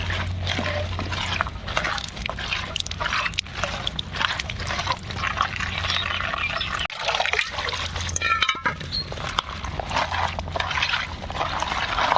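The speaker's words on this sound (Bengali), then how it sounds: "একটু ভালো করে রগড়ে ধুয়ে নেবো কলে" Tap water running over taro stolons being rubbed and rinsed, a steady splashing trickle close by with faint handling noises and a brief clunk midway.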